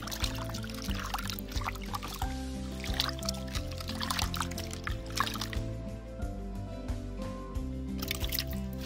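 Garfish being rinsed by hand in a pan of water make close sloshing, splashing and dripping sounds in irregular bursts, with a low hum running underneath.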